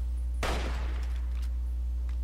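A single sharp gunshot from the video game Fallout 3 over a constant low hum, followed by faint scattered after-sounds.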